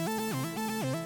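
ZenBeats arpeggiator running an up-down pattern, a steady synth tone stepping through notes that climb and then fall in an even rhythm, heard alone and at a constant level.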